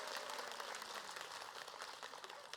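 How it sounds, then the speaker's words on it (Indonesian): Audience applause during an Islamic talk show taping, a dense, even patter of clapping sustained at moderate distance with no break. "Tepuk tangan dulu untuk wanita."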